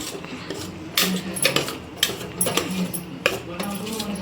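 Mutton being stirred together with a spice paste in a metal pot, giving repeated scraping clinks of a spoon against the pot, close and fairly loud, with a few sharper knocks and no talking.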